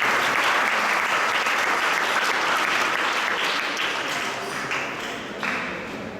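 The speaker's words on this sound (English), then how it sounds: "let's give him a little applause." Audience applause during an ISKCON Toronto Rathayatra havan gathering, a dense, even wash of clapping that holds steady and then gradually fades toward the end.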